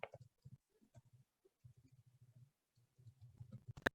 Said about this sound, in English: I'm typing it right now.